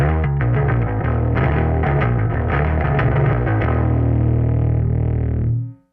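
A bass guitar plays through the Klon Centaur-based overdrive of a Line 6 POD Express Bass, a run of gritty distorted notes settling into a sustained held tone that fades out at the end.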